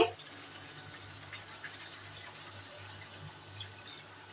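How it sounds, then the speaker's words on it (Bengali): Water pours steadily into chicken cooking in a pot for a large biryani, a soft continuous splashing stream that runs evenly throughout at moderate level, with no voices over it. "এখন আমি এই মাংসের ভিতরে জল দিয়ে দিচ্ছি"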